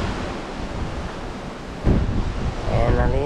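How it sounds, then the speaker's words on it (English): Steady wash of ocean waves and gusting wind at sea, heard from the deck of the Crown Princess cruise ship on an Alaska cruise, with a louder surge of wave or wind noise partway through. "Look at the ocean."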